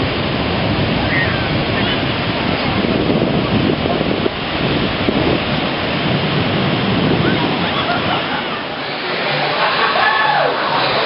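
Surf and wind at Cocoa Beach by Coconuts on the Beach, with a continuous loud wash of waves and gusting wind buffeting the microphone, and faint crowd murmur in the background.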